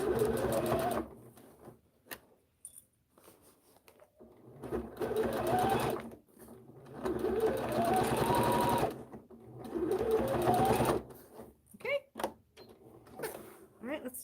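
A sewing machine stitches a fabric bag in several bursts a few seconds long, loud and close. Quiet pauses separate the bursts.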